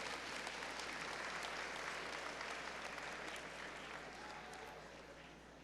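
A high school honors awards assembly audience gives students a round of applause, dense sustained clapping from a large crowd in a hall, even and loud before tapering slightly at the end.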